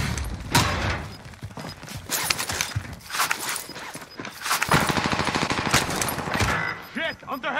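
Heavy gunfire rattles through a video game match, repeated rapid bursts and single shots up close, with game voices and clatter mixed in.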